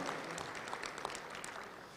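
Faint, distant crowd applause at a Little Rock Touchdown Club luncheon gathering, a soft continuous patter of many hands heard from far off for a couple of seconds.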